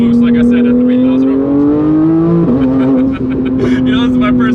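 Turbocharged car at full boost from about 3,000 rpm, its engine holding a loud steady drone that climbs in pitch, dips at a gear change and pulls on, with voices talking over it inside the cabin.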